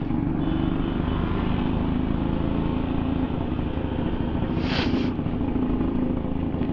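A Yamaha RX100 motorcycle rolls slowly through a village, its engine giving a steady, moderately close buzzing drone throughout, with a brief hiss of a passing sound near the end.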